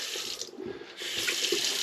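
A new faucet in a camper van runs at good pressure, a steady close hiss of flowing water filling a sink, its splash shifting slightly as the stream changes.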